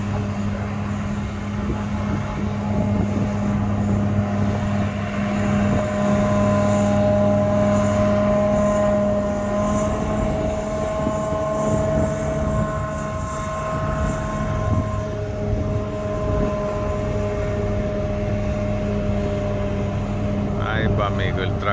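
Steady heavy engine drone with low tonal hum, a tractor and corn harvester working close by during the maize harvest in Belgium, continuous throughout with some voices faintly beneath.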